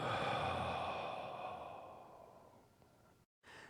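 A deep, slow breath out during tai chi breathing practice, heard close and alone as a long airy exhale that fades gradually before a short fresh breath at the end.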